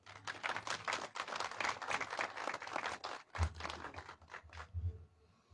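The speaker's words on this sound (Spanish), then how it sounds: "para quien pido un fuerte aplauso." Scattered, fairly faint clapping from a modest crowd at an outdoor municipal ceremony marking the start of street repaving, a burst of individual claps that thins and fades out near the end.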